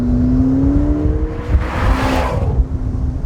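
McLaren 650S Spider sports car driven with the roof down, a steady engine drone with a shifting tonal whine, rising briefly as it accelerates, with wind and road noise throughout.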